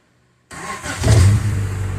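A Honda CRX race car engine is started with a push button: after a brief silence it cranks and catches abruptly, revving up loudly before settling into a rough, close idle.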